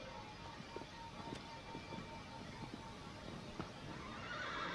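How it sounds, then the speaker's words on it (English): A horse whinnies amid soft hoof clip-clops and a steady ambient wash in the video game Shadow of the Colossus (2018), with no talking. "Horse jumps."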